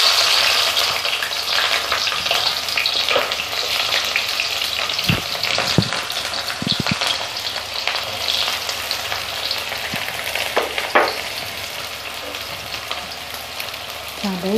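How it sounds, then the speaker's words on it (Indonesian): Shallots and garlic sizzle steadily in hot oil for a sustained stretch, with occasional stirring clatter breaking through the dense, even frying hiss; no one speaks. "Panaskan minyak, kemudian tumis dulu bawang merah dan bawang putih."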